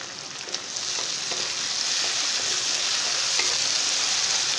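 Onion, tomatoes, green chilli paste and ginger-garlic paste fry in a pan with a steady, close sizzle and faint stirring scrapes, with no talking.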